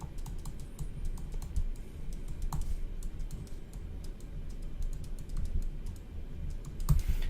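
A Livescribe 3 smartpen writing on paper gives a steady run of faint, quick clicks and taps over a low background rumble, close by and continuous throughout.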